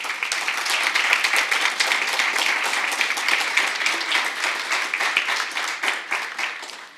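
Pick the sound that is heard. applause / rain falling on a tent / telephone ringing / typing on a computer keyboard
applause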